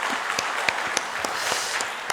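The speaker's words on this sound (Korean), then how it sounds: "다 하나님께 한번 영광의 박수 올려드리겠습니다." A church congregation at a Sunday service in Ulsan claps together in dense, continuous applause, with a few sharper individual claps standing out, and no speech.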